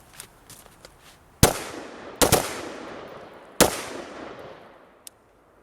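An AR-15 rifle fires three loud, sharp shots at an outdoor range, spaced unevenly and each trailing a short echo, with faint clicks and footsteps between them.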